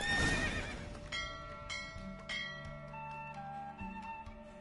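A horse in a Witcher 3 race lets out a loud, close whinny at the start. Quieter hoof clops and bright chiming tones follow.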